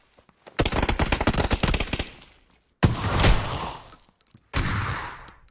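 A battle royale video game plays out in three loud bursts of automatic gunfire, the first a rapid string of shots and the others shorter clattering volleys, close, with gaps of near silence between them and no voices.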